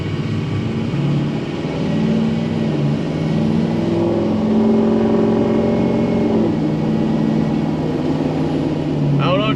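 A 6.0 diesel truck engine with an elbow exhaust tip rumbles loudly and steadily, with a throaty low drone and shifting pitch as it revs slightly, close by, while a voice appears to talk over it.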